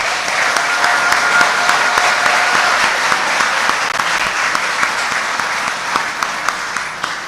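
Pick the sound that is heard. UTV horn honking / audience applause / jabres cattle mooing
audience applause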